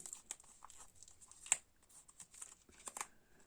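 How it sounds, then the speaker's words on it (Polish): Thin plastic foil wrap on a CD single is torn open by hand, crackling and tearing in short bursts and rips, close up and fairly quiet, with brief pauses between pulls. "żeby sobie tą folię otworzyć dalej, no ale na razie spróbuję to zrobić ręcznie"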